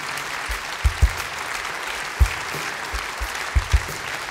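Jazz festival audience applauding for the band, dense steady clapping in a concert hall with a few sharp low thumps scattered through it, no talk.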